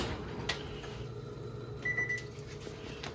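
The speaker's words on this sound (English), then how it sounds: "now I'm going to pop the oven on to broil" A kitchen oven is switched on to broil, giving a soft click followed by a short electronic beep over a faint, low steady hum.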